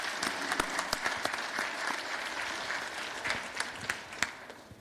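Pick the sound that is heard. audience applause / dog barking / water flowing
audience applause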